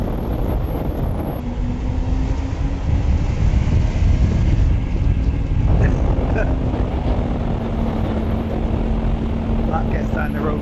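A 2020 Kawasaki Ninja H2 SX supercharged motorcycle accelerates on the road, engine pitch rising steadily under heavy wind roar from riding speed, while the rider talks throughout.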